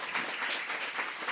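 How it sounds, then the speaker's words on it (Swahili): Students in an indoor hall at an awards ceremony applaud together, a dense steady patter of many hands clapping that swells slightly and carries on without talk. "Kwa hivyo wanafunzi wote waliomo humu ndani jipigieni makofi."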